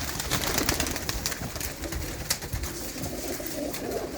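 Low, repeated cooing from teddy pigeons kept among a flock, soft and somewhat distant under a constant wash of background noise, with no voices over it.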